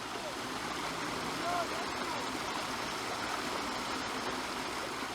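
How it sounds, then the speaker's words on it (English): River water rushes in a steady, broadband wash beside a yard where children scrub clothes, with faint splashes and no clear voices. "washing their clothes in the river next to the yard"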